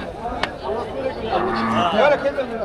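Cattle lowing at a crowded livestock market, several drawn-out moos rising over a busy background with low voices and crowd noise.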